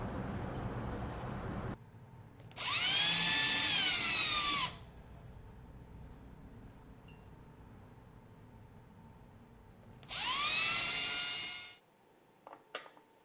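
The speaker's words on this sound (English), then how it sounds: "Got to make sure I drill those pilot holes in there" A power drill bores pilot holes into an oak box in two loud, separate bursts of a couple of seconds each, the motor pitch sweeping as it bites, with quiet pauses between.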